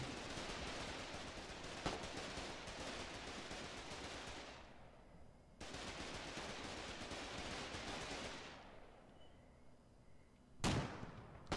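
Heavy machine gun in Foxhole, firing long sustained bursts nearby, cutting off and resuming, with a sharp louder blast near the end.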